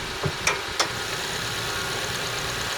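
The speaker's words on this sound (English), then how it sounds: "I'm running the engine to warm the oil through" A Suzuki Jimny engine idles steadily under the bonnet as its oil warms, producing a constant low hum with a few faint knocks and clicks near the start.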